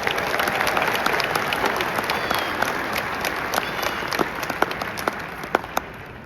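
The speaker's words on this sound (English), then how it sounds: "Give them a round of applause." Applause for graduates at a university commencement ceremony, a large crowd clapping steadily and densely throughout, with a few sharper individual claps standing out near the end.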